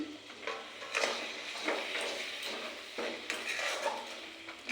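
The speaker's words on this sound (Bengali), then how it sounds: "নারিকেলটা দিয়ে ভালোভাবে নাড়বো আঁচটা কমিয়ে দিয়েছি" Grated coconut being stirred in a pan over a low flame for sandesh, with soft, quiet scraping and clinking strokes that repeat at a gentle rhythm.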